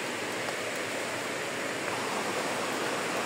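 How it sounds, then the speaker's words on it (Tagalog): Strong rushing water of a stream at Taitam Reservoir North, a dense, steady roar of flowing water close by and loud, with no talking. "Ang lakas ng tubig."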